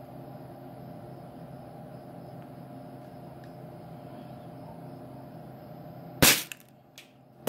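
A Daisy Red Ryder BB gun fires once at night with a sharp, loud crack, followed by a fainter click, over a steady low indoor hum.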